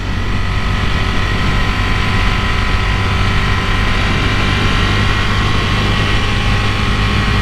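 A 2020 Ducati Monster 1200S engine drones steadily while the bike is ridden, a loud, continuous low rumble mixed with wind rush and no change in pace.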